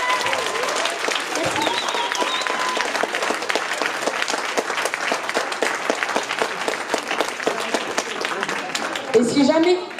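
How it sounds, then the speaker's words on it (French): An audience at a local talent show applauds a performer, a dense sustained clapping from a crowd in a hall, with voices mixed in toward the end. "On peut applaudir Tom s'il vous plaît."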